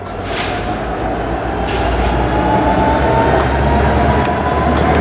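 A CN freight train locomotive revs hard inside a tunnel, straining under load, as a loud, steady, deep engine drone and rumble fills the space with a faint high whine above it.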